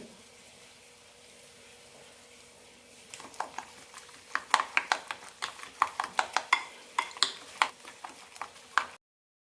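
Bread egg upma ingredients are stirred and mixed in a pan. A faint hum gives way to a run of sharp, irregular clinks and scrapes from the utensil against the pan, close and fairly crisp.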